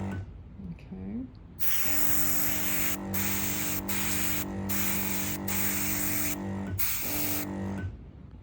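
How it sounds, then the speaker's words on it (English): Diebold airbrush system spraying blue dye onto a rug, a steady close hiss with a mechanical hum that cuts out in short breaks and resumes, then stops near the end. "Now we are using the Diebold airbrush system."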